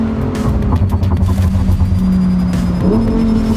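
A Lamborghini Huracan Tecnica's engine revs hard as it accelerates through the gears, a loud, steady, close drone that climbs in pitch, dips briefly at a gear change and then rises again, with no voices.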